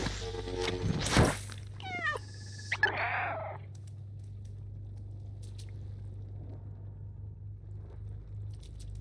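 A cat meows in the video game Stray, a few short cries early on and then fading into a quiet low hum and faint scattered ticks.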